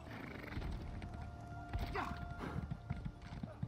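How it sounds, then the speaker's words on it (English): A slow-moving horse ridden in the video game Elder Scrolls Online trots along with rhythmic clip-clop hoofbeats, a brief whinny in the middle, moderately loud over faint background game sound. "Let's get on our super slow horse."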